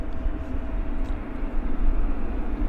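An Embraer airliner at Vancouver International Airport, heard as a steady, loud low-frequency engine rumble that holds throughout with slight swells, without talk.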